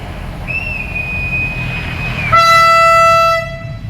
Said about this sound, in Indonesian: kereta api berjalan ke belakang